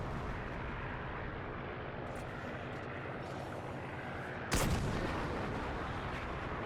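A tank cannon fires in War Thunder with one loud, sharp boom partway through, standing out against a steady background rumble of engine and battlefield noise, with no voices.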